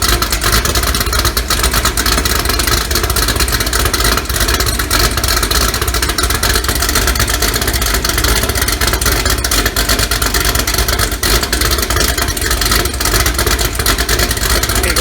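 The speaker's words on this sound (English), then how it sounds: "we got the Hot Wheels car running and it sounds great. Choppy idle, you know, it's got a big cam in it." 2018 Hot Wheels Camaro with an LME 416 stroker engine, big cam and D-1x Procharger, idling choppy and loud at close range, a dense, uneven rumble that holds steady throughout.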